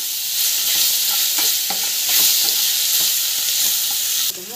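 Ingredients sautéing with asafoetida in a pan, a loud, close, steady sizzle broken by repeated stirring scrapes, fading at the end.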